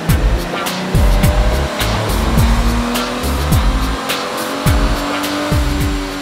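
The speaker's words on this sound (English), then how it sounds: "We started off by putting our 2007 V6 Mustang on the dyno jet." A 2007 V6 Mustang runs hard on a Dynojet chassis dyno, its engine droning loud and close, with repeated rising sweeps and sharp clattering bursts throughout.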